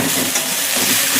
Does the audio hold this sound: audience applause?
no